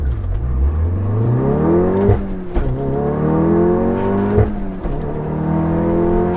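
An APR Stage 2 Golf with all-wheel drive and an aftermarket race clutch launches hard, its engine climbing in rising sweeps through quick gear changes, loud and close, two short breaks marking the shifts.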